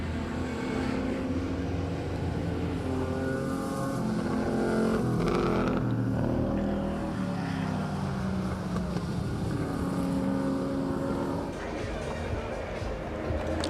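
Ford GT40 and Porsche 910 racing cars at a vintage motor racing event, engines roaring steadily on track throughout, loud and continuous with a rising surge midway as they dice through a corner, with faint commentary underneath.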